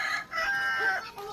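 A chicken crows and clucks in a short close burst, loud and alone with no talk over it.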